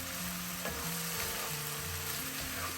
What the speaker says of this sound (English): fry this masala until the oil oozes out